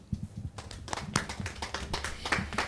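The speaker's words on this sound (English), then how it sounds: "Please let's give her a better round of applause." A round of applause at a webinar, scattered claps building into a brief, moderately loud patter of hands.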